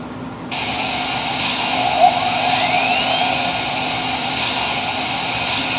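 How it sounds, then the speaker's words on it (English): An MTH Imperial 0-6-0 steam switcher model train runs its startup sequence, a steady loud hiss and whir that holds for several seconds, with a faint sweeping tone rising partway through. "there's the very, very simplistic startup sequence for the engine"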